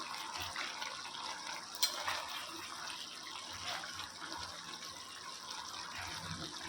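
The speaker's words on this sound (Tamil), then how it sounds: "இதை நல்லா மிக்ஸ் பண்ணி விட்டுடலாம்." Chicken thokku with seeded dried red chillies is stirred in a pan, a soft continuous sizzle and shuffling scrape with a faint clink, close and steady, with no speech.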